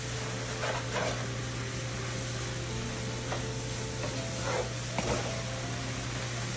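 Egg roll in a bowl filling simmering with water in a pan, a constant soft bubbling sizzle with a steady low hum beneath and a few faint clinks, no voices.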